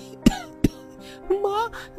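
Two sharp, close coughs a fraction of a second apart, followed by a voice speaking briefly.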